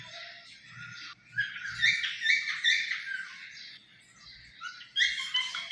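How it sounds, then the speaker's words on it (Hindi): A myna bird calls and chatters in a rapid, varied run of squawks, whistles and chirps, loud and close, with a brief pause before another burst of bright calls. "आज तो मैना ही मैना बोली जा रही है"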